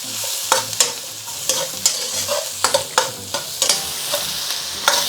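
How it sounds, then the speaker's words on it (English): Orange pepper and onion stir-fried in hot oil, a steady bright sizzle broken by repeated scraping stirs of the pan at an irregular rhythm, close and fairly loud with no talking. "And we're just going to lightly stir fry these."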